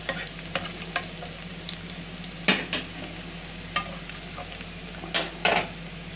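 Garlic sizzles in a frying pan on a stovetop, a continuous crackling hiss broken by sharp scrapes and clinks as a spoon stirs it around the pan.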